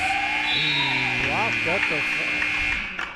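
A loud sustained buzzer sounds at a girls' high school basketball game to end the half, holding a steady tone over crowd noise and shouting in the gym.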